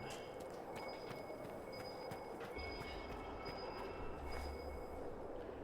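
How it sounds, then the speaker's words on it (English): A train moves around in Dragon Age: Inquisition, giving a steady low rumble with thin, sustained squealing tones and faint clicks, heard at low level without speech. "that's just the train moving around"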